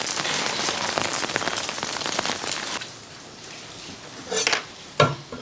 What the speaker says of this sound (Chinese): 这雨还越下越大呀